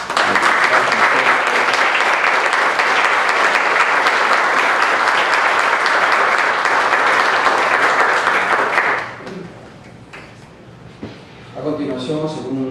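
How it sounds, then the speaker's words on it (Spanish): Loud, dense applause from a crowd fills most of the clip, then fades out, leaving quieter room sound and a voice beginning to speak. "yo le pido un nuevo aplauso para"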